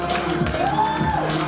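A comedy club crowd at a live gong-show night whoops and cheers loudly for the next comic, with scattered shouts blending into a brief burst of noise.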